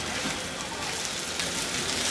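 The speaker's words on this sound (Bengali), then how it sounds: "দিয়ে এর সাথে আমার একটু ভেজে নিতে হবে নেড়েতে" Sliced okra frying in a pan and being stirred gives a steady, dense sizzle, close and continuous throughout, with a faint voice in the background.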